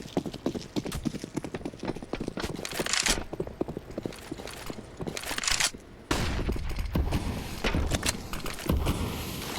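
FAMAS rifle gunfire in a professional Counter-Strike match on the Vertigo map, rapid clattering bursts and footsteps mixed with game effects, fairly close and continuous, with no talk heard.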